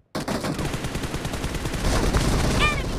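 Gunfire from a BGMI team deathmatch on mobile, a dense continuous stream of rapid shots that grows louder toward the end.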